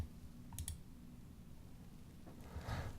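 A computer mouse gives a couple of quick, faint clicks close by in a quiet room, followed by a soft rustle.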